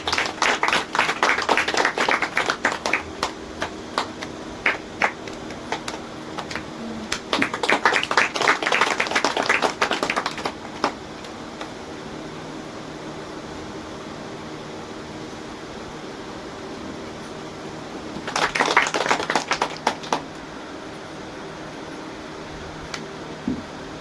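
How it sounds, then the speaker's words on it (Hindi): Loud bursts of audience clapping at a Teacher's Day function in an institute hall, two strong waves of applause separated by a quieter stretch of room hum, then a short final burst. "जोरदार तालियां।"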